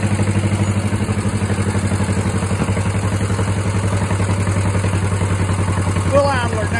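An old engine, run for a while during blind maintenance work, settles into a steady, loud, close idle with an even low rhythmic throb and light mechanical clatter.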